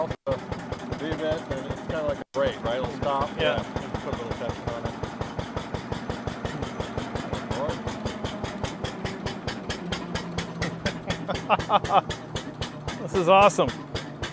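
An 1886 Benz Patent Motorwagen's single-cylinder engine runs close by with a steady, rapid chuffing and knocking beat, while people talk throughout.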